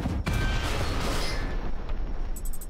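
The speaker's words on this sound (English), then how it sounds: "It looks like I get to open this gate with explosions." Explosions blasting open a gate in the zombie survival game Dysmantle: a sharp boom at the start followed by a rumbling, crackling blast tail that fades, with small chime-like pings near the end.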